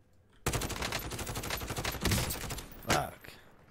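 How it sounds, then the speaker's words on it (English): Rapid gunfire in a shooter video game, a dense close burst of automatic shots starting abruptly and rattling continuously, with a heavier blast near the end. "I'm taking fire!"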